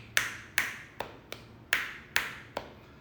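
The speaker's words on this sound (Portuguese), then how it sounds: "É estalar de dedos." Finger snapping during an apometria session: seven crisp, bright snaps ring out one after another at a steady, unhurried pace, each close and distinct with a brief ring afterward, against a quiet background with no one talking.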